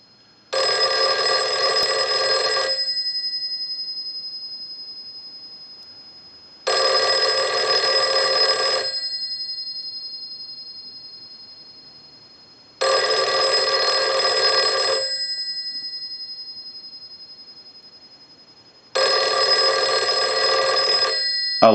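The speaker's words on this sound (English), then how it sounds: "use the analyzer and send a ring cycle like you were getting a call" A Western Electric 302 rotary desk telephone rings its bell in four long bursts, each about two seconds of loud metallic clanging followed by roughly four seconds of quiet, the rhythm of a normal ring cycle.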